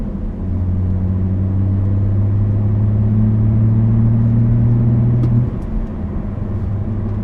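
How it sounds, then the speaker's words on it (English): Steady engine drone and turbo intake rumble from a BMW 340i with a six-speed manual and CTS intake while driving, loud and continuous for several seconds before easing off. "I'll try and get some of that turbo noise from the new CTS intake"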